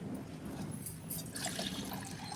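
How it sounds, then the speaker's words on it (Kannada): Split moong dal being rinsed in water in a bowl, giving a soft, steady trickle and slosh of liquid, close but quiet, with no talking. "ಅದನ್ನು ನೀರು ಹಾಕಿ ನೀಟಾಗಿ ಒಂದೆರಡು ಸಾರಿ ತೊಳಿರಿ"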